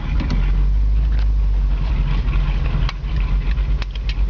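A 1969 Pontiac Firebird convertible's engine idles steadily with a deep, throaty rumble from a brand new exhaust, loud and close, with faint clicks on top.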